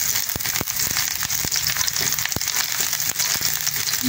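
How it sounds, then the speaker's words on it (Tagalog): Onions and garlic sauté in a hot pan for ginataang puso ng saging with chicken, a loud, close, continuous sizzle and crackle with occasional sharp pops and stirring scrapes. "At maggisa na tayo ng sibuyas at bawang."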